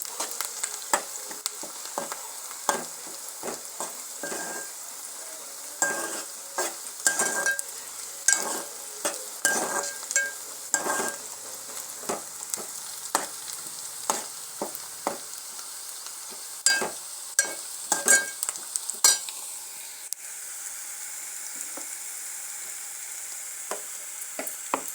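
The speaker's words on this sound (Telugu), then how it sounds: "దీన్ని వేయించుకున్నాక పచ్చిమిర్చి, ఉల్లిగడ్డ, కరివేపాకు కూడా వేయించుకొని" Green chillies, onions and curry leaves fry for a mutton curry, a steady sizzle punctuated by frequent clinks and scrapes of a spoon stirring in the pan, close and moderately loud, with no talking.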